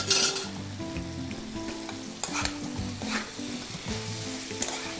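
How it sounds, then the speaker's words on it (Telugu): Thin potato fingers fry in hot oil on a high flame, a continuous close sizzle and crackle with occasional stirring clinks, no voices. "ఒక్కసారి మనం దీన్ని వేగనిద్దాం కొంచెం హై ఫ్లేమ్లో"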